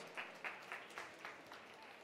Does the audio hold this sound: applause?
yes